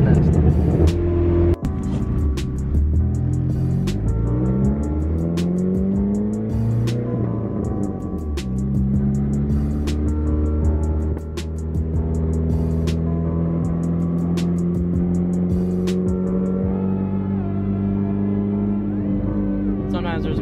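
A Chevrolet C8 Corvette engine rises and falls through loud, rich rev sweeps while being driven. The close, throaty tone continues for about twenty seconds, with a sharp click or two along the way.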